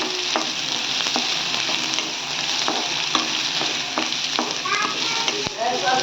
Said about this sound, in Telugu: ఆయిల్ వేసుకొని ఆనియన్స్ కూడా దీంట్లోనే ఫ్రై చేసుకోవాలి.